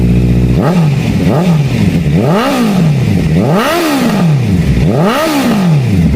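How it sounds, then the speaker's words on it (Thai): Honda CBR650F motorcycle with an aftermarket exhaust, revved hard four times in a row from idle, each sharp rise and fall loud and close, with no talk. "มาฟังเสียงตอนเร่งเครื่องกันบ้างครับญาติครับ"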